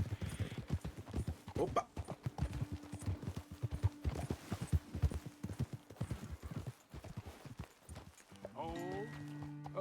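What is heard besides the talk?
horses clip-clopping in video game Red Dead Redemption 2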